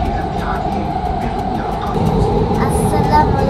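Qatar Metro train running through an underground tunnel, a steady dense rumble and rolling hum that swells slightly toward the end, with a faint high hiss near the close and no clear speech.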